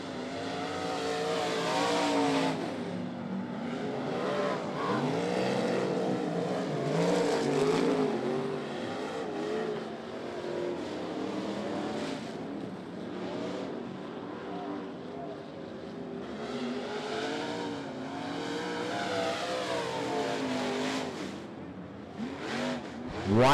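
Sportsman race cars at Ponderosa Speedway roaring past in a pack, engines rising and falling in pitch as they rev and pass, loud and continuous throughout.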